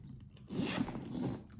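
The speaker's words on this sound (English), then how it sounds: "An amazing zipper." A zipper pulled along a Louis Vuitton monogram bag, one short close rasping run lasting about a second, with no talk.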